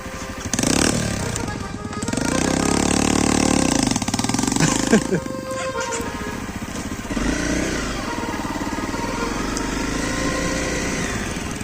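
A small dirt bike engine revs loud and high, rising and holding, then drops to a rough idle, with voices mixed in.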